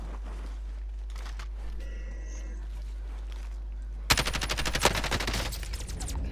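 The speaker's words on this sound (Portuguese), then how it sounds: "já tá me dando tiro." Gunfire in the video game Call of Duty: Modern Warfare, quiet ambience at first, then a sudden loud burst of rapid automatic shots for the last couple of seconds.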